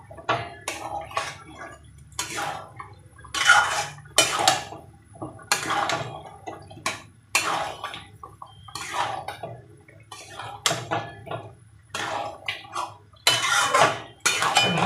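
Utensils scrape and clatter against a pan while chicken curry with coriander is stirred and browned, bursts of close metallic knocks and scrapes in an irregular rhythm, with no talking.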